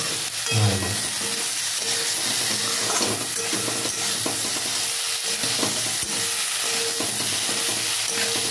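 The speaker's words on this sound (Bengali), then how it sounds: "বেগুনটা অনেক ভাজা ভাজা হয়েছে" Eggplant (brinjal) frying in oil in a pan for a neem-begun dish, a steady close sizzle with stirring scrapes and clinks running throughout, no talking.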